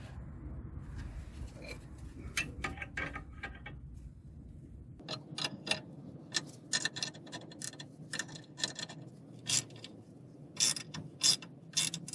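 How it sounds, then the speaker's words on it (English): A ratchet wrench tightens a bolt on a Toyota Yaris wishbone, giving a run of quick metallic clicks and ticks in repeated bursts, close and fairly loud, with a low rumble beneath early on. "now we're just going to tighten up that bolt."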